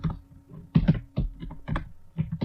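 Keys clatter on a computer keyboard in short irregular bursts of taps, close and fairly quiet, with brief pauses between clusters and no voices.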